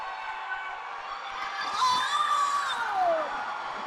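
A roller derby crowd at a rookie bout between Arizona Rookie Derby Dames and LA Toybox Terrors cheers and whoops, with shrill rising and falling shouts swelling over a steady arena roar.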